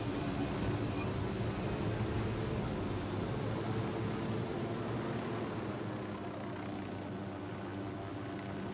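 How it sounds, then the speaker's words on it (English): A helicopter flies in Ghost Recon Wildlands on PS5, its engine and rotor making a steady, loud, broadband roar that holds constant and fades slightly toward the end, with no voices. "who's ready for a helicopter ride? I know I am. I'll pilot."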